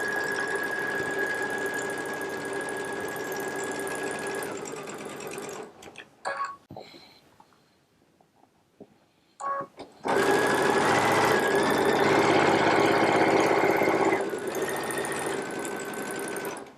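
A Baby Lock Solaris sewing machine fitted with a 1/4-inch piecing foot runs fast and close while chain piecing log cabin quilt blocks, in two bursts of whirring stitching split by a short quiet pause with faint handling sounds.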